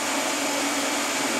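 Cooler unit of a TIG welder running, a loud, continuous whooshing hum with no change for its whole length.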